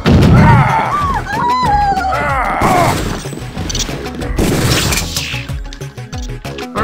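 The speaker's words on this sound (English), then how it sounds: "This sounds like a job for a gas grenade." Gas grenade and gunshots in the Deus Ex game during a hostage standoff in Hell's Kitchen: a loud thudding burst followed by cracking shots and smashing impacts layered over game music, dense and continuous throughout.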